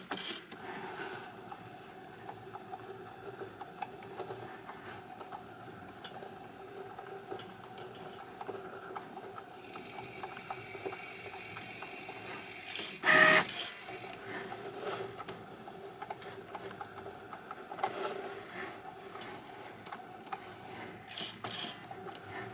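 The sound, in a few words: Cricut cutting machine double-cutting printable tattoo paper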